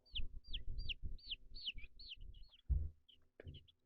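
Young New Hampshire and North Star Bresse chickens peeping in a rapid, regular series of high calls, close by, followed by a few low thumps and shuffling noises.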